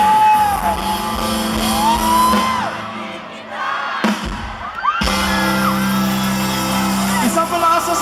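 A crowd at a live band concert in Nueva Vizcaya shouts and whoops loudly on cue, with a brief lull and a sharp bang before the roar builds again, layered over ringing stage sound.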